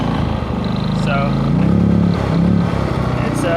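Westinghouse iGen4500 inverter generator under load with a current clamp attached, its engine droning and surging up in pitch as it revs while an overload condition comes and goes, loud and close.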